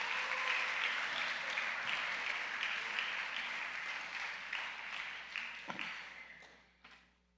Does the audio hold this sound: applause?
yes